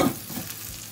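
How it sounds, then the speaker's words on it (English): Onions sautéing in a pan while cooking chicken hot dogs, a steady sizzling and frying hiss with a brief stirring scrape near the start, close and moderately loud. "I need to saute the onions very well."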